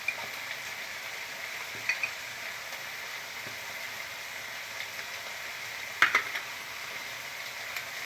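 Banana stem muri ghonto being stirred in a pan, a steady soft sizzle with occasional scraping clinks of a spatula against the metal, close and quiet, with no speech.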